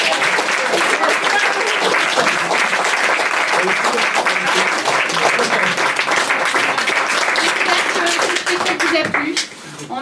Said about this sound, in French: Je vous demande d'applaudir Yolande.